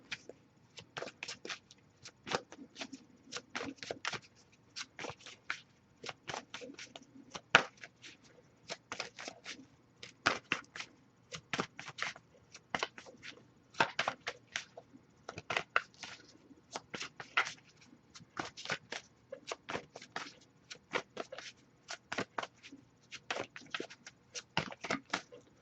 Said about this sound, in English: I'll give it a few more shuffles